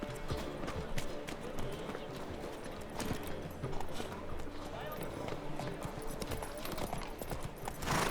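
Horse hooves clip-clop at a gallop in The Witcher 3 while riding, a steady rapid rhythm of hoofbeats with a brief whinny, layered under game music and ambience, with a voice speaking over it.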